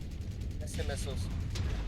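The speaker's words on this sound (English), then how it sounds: "Missing missiles." Missile launches and impacts in the mech combat game Mechwarrior 5: Mercenaries, a low rumbling barrage with a few brighter whooshing bursts, steady and moderately loud under game noise.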